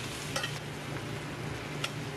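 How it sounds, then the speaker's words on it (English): Butter and olive oil sizzling and foaming in a roasting pan, a steady close hiss of frying with a couple of faint clicks from utensils, no voices. "Butter and olive oil are added to the pan."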